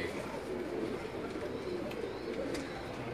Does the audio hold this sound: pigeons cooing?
yes